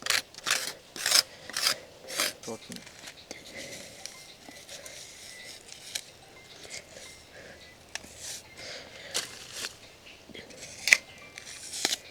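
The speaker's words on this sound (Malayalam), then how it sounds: "അപ്പോൾ ഒന്ന് ചുരണ്ടി കളഞ്ഞിട്ടാട്ടോ പൊളിച്ചെടുക്കുന്നത്." Outer layer of cinnamon tree bark being scraped off by hand, a close series of dry, rasping strokes in uneven bursts with short pauses between them.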